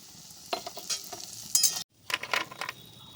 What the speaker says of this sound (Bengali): মাছ ভাজা করে তুলে নিয়েছি, ওই তেলেই ভেজে নিচ্ছি কয়েকটা কলাইয়ের ডালের বড়ি।